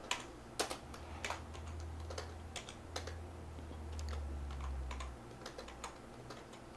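Keys on a computer keyboard clack in irregular bursts, up close and fairly quiet, over a low steady hum.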